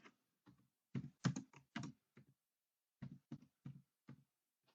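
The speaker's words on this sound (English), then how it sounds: "we're gonna type in monthly budget" Fingers tap out short bursts on a computer keyboard while entering text into an Excel spreadsheet, soft close clicks in uneven clusters with a pause midway, no voices.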